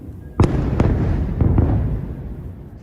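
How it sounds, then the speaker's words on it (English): Fireworks go off in a quick series of four sharp bangs, the first loudest and closest, each trailing into a rumbling echo that hangs on after the last burst. "Today is the firework day."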